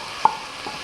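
Tomato with coriander, black pepper powder and salt sautéing in a pan, a soft steady sizzle with one brief scrape of stirring, short and quiet with no talking.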